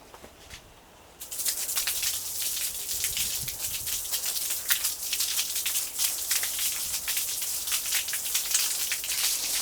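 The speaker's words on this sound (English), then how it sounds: "finally we want to rinse off any kind of soap or degreaser" Water spraying over a bicycle to rinse off soap and degreaser, a dense, steady splashing hiss that starts after a brief quiet moment and continues evenly at close range.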